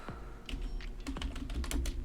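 Fast keystrokes on a computer keyboard come as irregular bursts of close, crisp clicks, with no voices over them.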